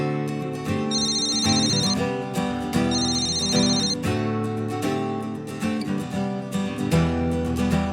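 A telephone rings repeatedly in a Telugu film scene, sounding as a steady electronic ringtone in regular bursts over a continuous musical background, with no talking.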